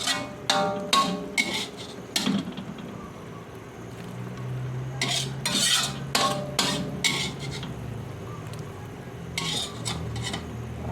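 Sliced shiitake mushrooms being stir-fried in a pan for a pickled mustard green soup with pork bones and pork belly, a spatula scraping and clinking against the pan in irregular strokes over a soft background sizzle.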